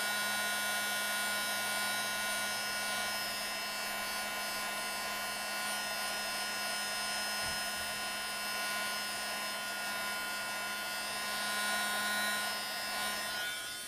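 A heat embossing tool blows a steady, loud whirring hum while heating embossing powder until it puffs up, running continuously close by without talk.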